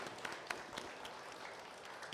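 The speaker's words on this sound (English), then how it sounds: "big round of applause for Planet Aquariums for these tanks" Steady applause from a crowd at an aquarium expo during a saltwater aquascaping contest, dense clapping that is fairly distant and even throughout.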